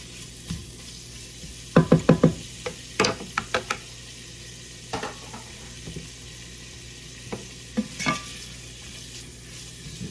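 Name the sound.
peppers frying with bacon in bacon fat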